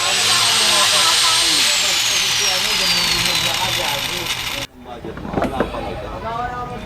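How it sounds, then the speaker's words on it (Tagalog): An angle grinder cuts down a new 520 motorcycle sprocket for an XR150L, a loud steady whine with a falling pitch for several seconds that stops abruptly, followed by clatter and voices. "Madali lang naman siyang bawasan kung may grinder ka"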